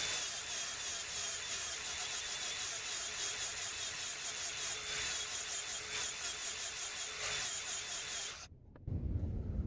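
Coarse 60 grit abrasive grinds against a custom car emblem in a rapid, rhythmic rasping scrub, loud and close, running continuously before cutting off abruptly near the end.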